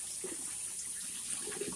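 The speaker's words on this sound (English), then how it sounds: "And I'm gonna drain this water off." Water drained off a pot of pig ears and greens pours in a steady, soft splashing stream, with low gurgling bursts near the start and again toward the end.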